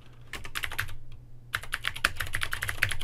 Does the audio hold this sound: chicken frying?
no